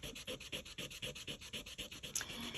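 A Tombow Mono sand eraser rubs back and forth on paper in a quick, steady rhythm of about a dozen close, scratchy strokes, quiet and alone.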